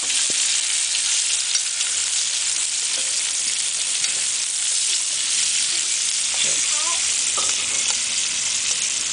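Bacon sizzles and spits steadily in a hot pan, a constant bright hiss with scattered pops and a few faint clinks near the end.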